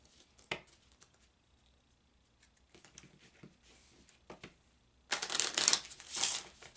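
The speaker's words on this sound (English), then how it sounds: "So that sound you hear is me shuffling on the table." Tarot cards are handled on a table, with soft scattered taps and rustles early on, then a loud, close, crisp riffling shuffle burst near the end.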